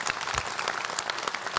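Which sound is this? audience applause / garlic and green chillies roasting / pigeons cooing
audience applause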